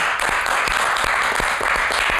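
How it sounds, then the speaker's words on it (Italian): Audience applause fills the space, a dense and steady roar of clapping with occasional sharper individual claps, loud and continuous throughout. "Applausi a quest'uomo, applausi, applausi, veramente."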